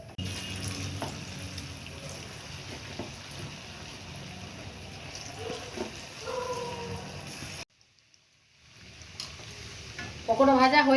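Chicken pakora deep-frying in hot oil gives a steady, close sizzle with stirring noises, broken by a brief near-silent gap before the frying returns louder at the end.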